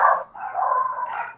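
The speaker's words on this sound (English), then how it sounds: "All the dogs going crazy now." Several dogs bark and yip excitedly, close and loud, at a high school football game, a continuous run of overlapping barks with a brief dip in the middle.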